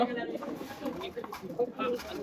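Soft cooing calls of young pigeon chicks repeat over a steady murmur, with a voice talking in the background.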